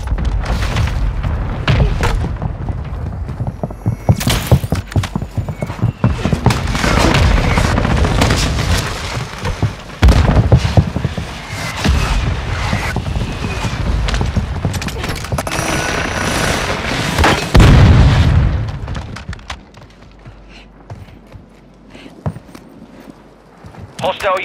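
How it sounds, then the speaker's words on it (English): Call of Duty: Warzone match with a mortar strike landing: repeated loud explosive blasts and gunfire build over about twenty seconds amid constant game noise and a voice, then drop away near the end. "Hostile mortar strike incoming."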